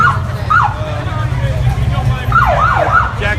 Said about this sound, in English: got an ambulance here.